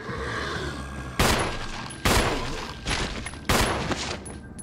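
Gunfire in Resident Evil Remastered HD, four loud sharp gunshots spaced about a second apart over a steady low game ambience, each burst ringing briefly before the next.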